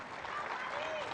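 Spectators applaud the champions at a World Challenge Cup fencing event in Varna, a continuous wash of clapping heard at a distance with an announcer's voice over it.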